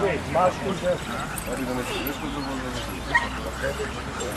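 Macedonian Shepherd (Karaman) puppies, three to six months old, yip and bark in short bursts, with a whimper or two, under steady talk and crowd noise at a dog show.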